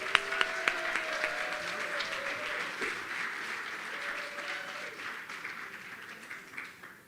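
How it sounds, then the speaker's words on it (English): Audience applause at a submitters' conference in Virginia after a speaker is introduced, a moderate, fairly distant wash of clapping with a few sharper claps near the start and some faint tonal background sound underneath, gradually thinning out. "Round of applause."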